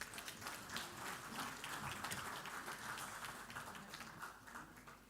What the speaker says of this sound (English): May we have a round of applause for our honored dignitaries on the dais.